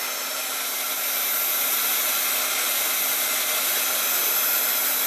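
A heat tool blows hot air steadily to melt embossing powder on a handmade card, a constant loud whooshing drone with a faint hum running through it, continuous and unbroken from start to finish.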